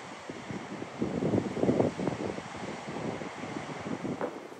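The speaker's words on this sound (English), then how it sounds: "The Atlantic wind seemed to pummel the coast." Strong Atlantic wind buffets a rugged clifftop coastal trail in southern Portugal, a steady roaring rush with gusty swells, likely mixed with distant surf, continuous and loud throughout with no voices.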